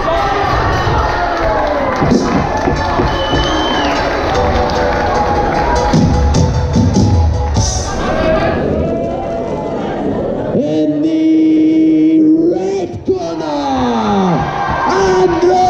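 A crowd at a white-collar boxing event in Alloa, Scotland, shouting and cheering loudly, with a voice rising above it and a sharp thump near the end as the noise briefly drops.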